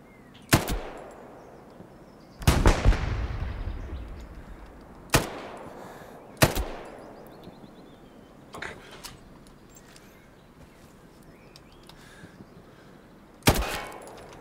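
Gunfire in the World War II shooter Hell Let Loose in the Hurtgen Forest, with single loud cracks and short bursts spaced irregularly and rolling echoes behind them.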